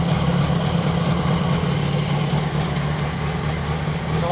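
A motorcycle engine runs at a steady idle during a French roadworthy emissions test with a probe in the exhaust, a continuous low rumble with no changes in pitch, fairly loud and close.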